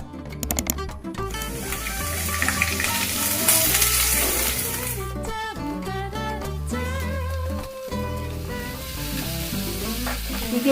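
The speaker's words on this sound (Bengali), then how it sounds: "চিকেনগুলো আমার ভাজা হয়ে গিয়েছে" Chicken pieces frying in a pan for lemon chicken, a loud, steady sizzle and crackle running throughout with occasional clinks and stirring scrapes, close and continuous.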